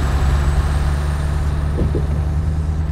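Scania truck engine droning low and steady in the Euro Truck Simulator 2 game, with a brief soft thump near the end as the truck rolls over a bump; no talk.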